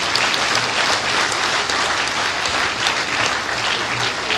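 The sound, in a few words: audience applause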